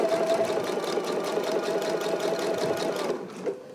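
A sewing machine understitching fabric runs in a fast, steady mechanical whir with rapid needle ticking, close up, then slows and stops near the end with a small clunk.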